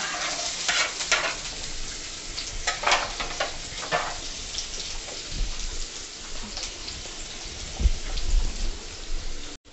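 Crushed garlic and finely chopped onion sauté in a pan, giving a crackling, hissing sizzle broken by repeated scraping stirs of a spoon, close and without speech.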